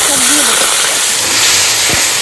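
Ground cumin, garlic and chili paste hit a hot pan and sizzle loudly, a steady close hiss with a brief voice heard over it.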